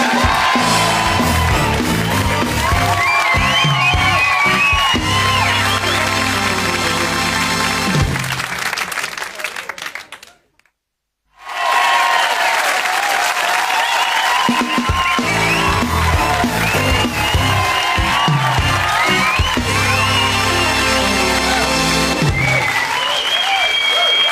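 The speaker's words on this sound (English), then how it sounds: "big round of applause for Cliff White!" Loud crowd applause with cheering and whoops, dropping to a sudden brief silence midway before the clapping and shouting resume at full strength.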